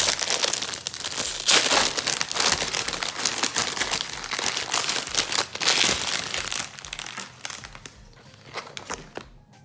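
Crinkly plastic wrapping is torn and crumpled off a trading card collection album, a dense run of loud, close rustles and crackles that thins out and stops near the end.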